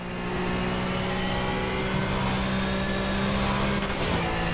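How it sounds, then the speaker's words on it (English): An old-school LMP2 race car in the rFactor sim racing game revs loudly and steadily near the Nurburgring, its engine drone holding a sustained pitch with a brief shift near the end, no talk over it. "Oh, listen to that car."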